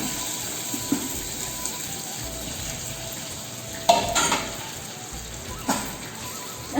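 Crushed vermicelli fries in ghee with a faint, low sizzle, broken by a few scraping stirs and clinks of a utensil against the pan, all quiet and close.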